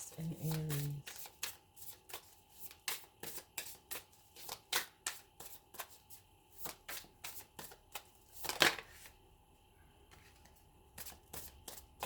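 Tarot cards being shuffled in repeated quick riffling bursts across the whole span, close and crisp, with a brief voice at the start and a louder rustle near the end.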